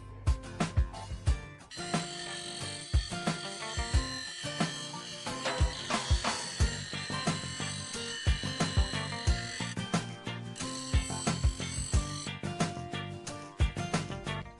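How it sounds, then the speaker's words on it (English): Bench grinder cleaning up the edges of a homemade metal detecting pick for gold prospecting, a continuous high whine with harsh grinding bursts as the metal is pressed against the wheel, loud and close throughout. "next thing I've got to do is just hit it on the grinder to clean up sort of the edges"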